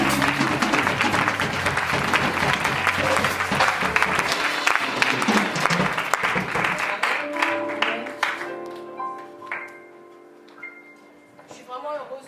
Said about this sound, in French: J'aimerais que tu puisses encore acclamer.